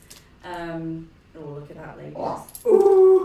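A pet dog named Winnie whimpers and yips in distress somewhere in the background, with high whiny cries rising and falling under a woman's close, excited talk.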